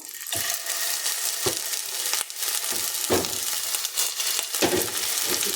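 Cutlets fry in a pan at a workplace kitchen, a steady loud sizzle running throughout with a few sharper crackles and spatters breaking through.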